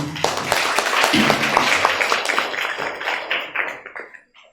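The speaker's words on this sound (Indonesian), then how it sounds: "Kita beri tepuk tangan dulu." Audience applause at an Indonesian seminar on humans in Industry 5.0: a dense, steady burst of many hands clapping together, which thins out and fades to silence near the end.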